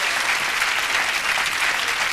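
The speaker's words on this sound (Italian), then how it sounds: "Un grosso applauso per Ilenia." A theatre audience at a comedy magic show applauds steadily, a dense even wash of many hands clapping throughout with no pauses.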